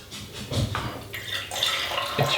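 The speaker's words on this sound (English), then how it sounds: "if you're really slow, really careful at pouring, you can pour into your" Coffee poured slowly into a glass, giving soft, uneven trickling and splashing of liquid in short bursts, close and fairly quiet, with no talk.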